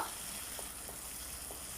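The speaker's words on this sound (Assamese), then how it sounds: "অলপ সময় এইখিনি ভাজিব লাগিব" Soft, steady sizzle of a tomato and onion paste frying in a pan, quiet and continuous, with a few faint clicks from stirring.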